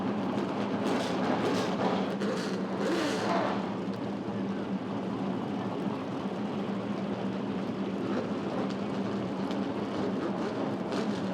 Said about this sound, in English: The sound of 550 horsepower roaring to life.